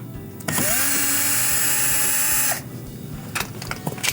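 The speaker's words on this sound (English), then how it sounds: "There's 2 Phillips screws that will need to be removed." Cordless power drill backing Phillips screws out of the bottom access panel of a Samsung dishwasher, a loud, close, high-pitched whine held for about two seconds, followed by quieter clicks and handling noise.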